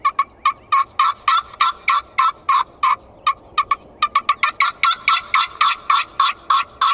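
A turkey call imitating a raspy hen gives a series of sharp, raspy yelps repeating in quick rhythmic runs, loud and close, with short pauses between bursts.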